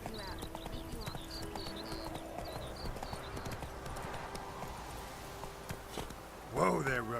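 Roach, a horse in a video game, trots with a steady, close clip-clop of hooves, ending in a brief loud snort or whinny as the horse is reined in, with faint voices beneath.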